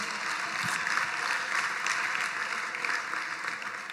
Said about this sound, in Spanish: Un aplauso para las mamás que tienen cocas.